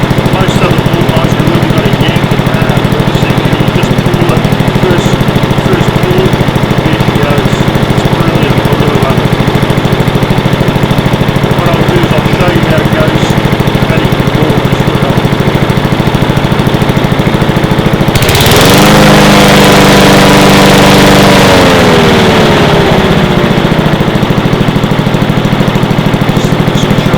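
A 2016 Honda HRU 196 Heritage Easy Start lawn mower engine runs loud and steady at close range, then abruptly cuts out near the end, leaving a brief descending whine as the flywheel stops.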